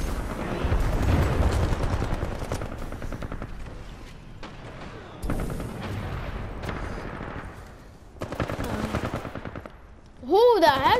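Gunfire in Titanfall 2 during a bounty hunt: loud bursts of rapid automatic fire come in several volleys separated by short gaps, with a rising whistling tone near the end.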